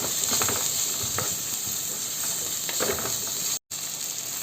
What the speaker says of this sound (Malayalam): ചെറിയ ഉള്ളി ഒന്ന് നടുകെ പിളർന്നത് അതും കൂടി നമുക്ക് ഇതിലേക്ക് ചേർത്ത് കൊടുക്കാം ഒന്ന് ഇളക്കി കൊടുക്കാം